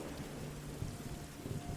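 Steady rain with a low thunderstorm rumble fills the background of a tabletop roleplaying session. The wash is continuous and moderately loud, with no voices over it.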